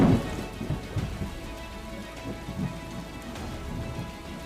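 Heavy unseasonal rain in Gujarat falls as a steady, soft hiss, with low rumbling thunder rolling underneath and no voices.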